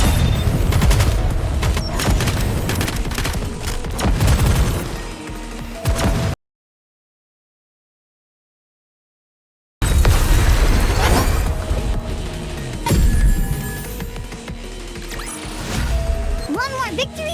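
Heavy bombardment explosions rumble and burst in the video game Nikke: Goddess of Victory, with dense volleys of booms and rattling impacts, a complete silence partway through, then a renewed barrage mixed with game sounds and voices.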